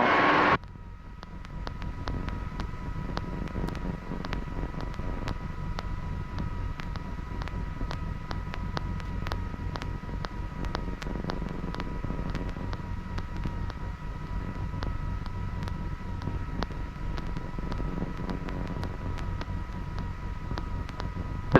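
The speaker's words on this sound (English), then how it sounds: "They don't really care too much about the helicopter noise." Hughes 269A helicopter in flight, a close, steady engine and rotor drone with rapid blade chop that holds loud and unbroken throughout.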